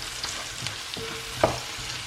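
Curry powder, thyme and oregano being fried and stirred together in a pan for a sauce, a soft steady sizzle with a few light scraping strokes of a utensil, fairly quiet and close, no talking.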